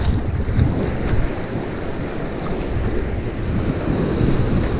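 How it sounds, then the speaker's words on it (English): Strong wind gusts across Kentucky Lake while fishing from a boat, a loud continuous roar buffeting the microphone with lapping water underneath and no talk. "Crazy wind out here, boys."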